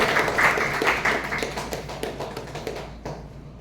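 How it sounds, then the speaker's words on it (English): A burst of clapping from a small group at a Toastmasters meeting, loudest at the start and thinning out to scattered claps before fading. "please give a big round of applause to invite Toastmaster Vassal."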